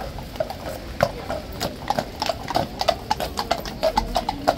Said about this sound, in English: Rain-sodden police horses.